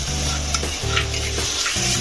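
Ambadi (roselle) greens fry and sizzle in a pan while being stirred, giving a steady close crackle with scraping spoon strokes against the pan.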